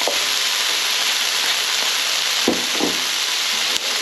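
Garlic and ginger sizzle steadily in a hot pan for a runner bean curry, a continuous close hiss of frying with a few brief stirring clatters and no talk.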